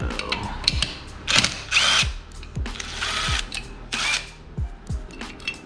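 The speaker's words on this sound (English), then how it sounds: "these impact drivers are the tits McGee right here" An impact driver removes nuts on a Honda Grom motorcycle, firing in short, loud hammering bursts separated by brief pauses, close up and with no talking.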